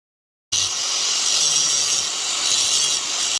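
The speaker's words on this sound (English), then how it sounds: "I'm just going to go and grind off the paint just around the edges where it's going to be welded together" An angle grinder strips paint from the edges of scrap metal pieces before welding, starting abruptly and running as a loud, steady, close abrasive whine until it stops.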